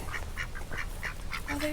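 Ducks on a hiking trail in Ohio give repeated nasal quacks in an irregular series, fairly close, over a low steady background hum.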